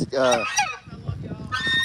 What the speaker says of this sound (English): these geese right here are actually called Chinese geese